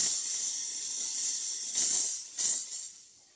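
A loud, steady steam hiss blasts from an espresso machine wand, briefly surging twice before tapering off.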